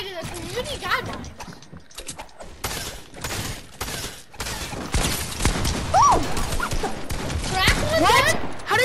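Gunfire in a multiplayer shooter game, with sharp shots and clattering action sounds breaking out in quick clusters, loud and busy, with people talking over it.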